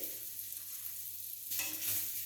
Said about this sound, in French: Et on va donc bien les faire dorer